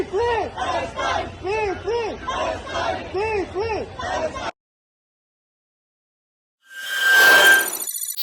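Protest crowd chanting slogans in a steady rhythmic call, many voices repeating short phrases loudly in unison, then cutting off abruptly, followed after silence by a bright ringing electronic tone.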